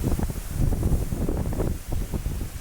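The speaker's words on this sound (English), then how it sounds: "there are some mighty strong gusts of wind coming through" Strong wind gusts rumble and buffet in uneven surges, rising and easing, in early morning in New Zealand, with no talking.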